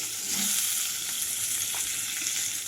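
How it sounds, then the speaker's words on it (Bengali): Eggs fry in mustard oil, giving a steady, close, loud sizzling hiss that holds evenly without pause. "সেই সর্ষের তেলে ডিমটা ভেজে নেব"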